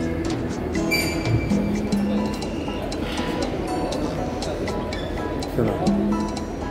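A train at a railway station in Morocco, with steady rumbling rail noise, brief wheel or brake squeals, and continuous background station ambience while people talk nearby.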